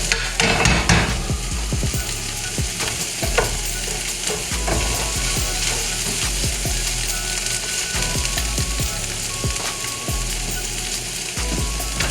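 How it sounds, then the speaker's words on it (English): A spatula scrapes and stirs browned bits left in a pan after cooking steak tips, with steady frying sizzle and repeated clicking scrapes, close and fairly loud, no voices. "try to stir up all the little bits that are left in there"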